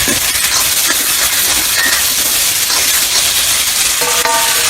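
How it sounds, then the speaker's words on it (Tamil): Ginger garlic paste and tomato sizzle and fry in oil for a Chettinad chicken gravy, producing a loud, continuous crackling hiss with occasional stirring. "இப்போ நம்ம போட்ட இஞ்சி பூண்டு பேஸ்ட்டு நல்லா வதங்கிடுச்சு."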